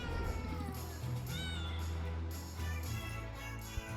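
Cats meowing in the video game Potionomics, repeated mews over a steady low musical hum, close and clear, with no talking.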